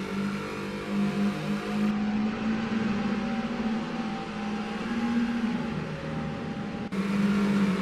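A Peugeot 504 race car engine drives hard at Mas du Clos in a racing video game. A loud, steady engine drone holds with slight pitch shifts and a brief dip near the end, with no voices.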